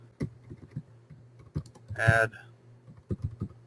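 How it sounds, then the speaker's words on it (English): Quick bursts of computer keyboard typing in short clusters, entering label text in design software, with a brief spoken interjection in the middle. "And what I can do is I can just type in"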